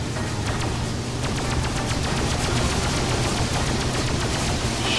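Continuous rapid turret gunfire from a heavily armed ship in the Freelancer space game, a steady dense stream of repeating shots layered over a constant engine hum, moderately loud throughout.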